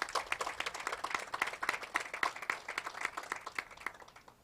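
Audience applause at a new hospital investment announcement in Delaware, a steady wash of many hands clapping at moderate distance for several seconds, with no voices over it.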